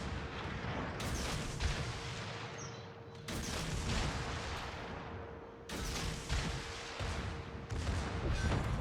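Naval ship guns firing in a World of Warships battle: dense, continuous heavy booming and rumbling with several sharp louder bursts, loud and close, with a steady tone running underneath.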